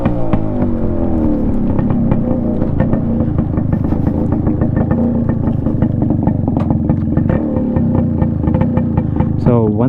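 A Yamaha RX135 motorcycle with a modified exhaust revs loud and close, a raw crackling two-stroke note rising and falling in rapid throttle blips without a pause.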